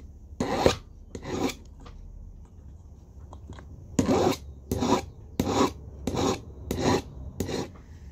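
Hand file rasping on a metal bezel cup supported on a wooden bench peg, in bursts of push strokes: a few strokes, a pause, then a steady run of six or seven close, scraping passes.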